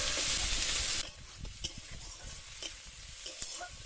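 Chopped ginger, chilli and garlic drop into hot oil with a loud, close sizzle for about a second, then settle to a softer crackle broken by a few light stirring taps.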